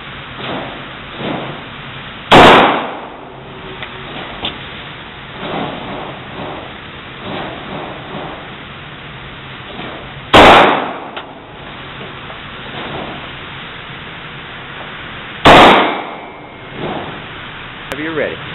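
Handgun shots at a shooting range, three sharp loud cracks spaced several seconds apart, with an instructor's voice talking in between.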